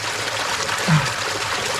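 Steady rushing wash of water flowing through rapids inside a cave, a constant close hiss with a brief low gurgle in the middle.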